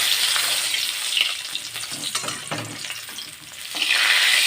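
Fish frying in hot oil in a pan, a loud steady sizzle with crackling and scattered spatter pops that dip briefly midway before swelling strongly again, close by with no talk.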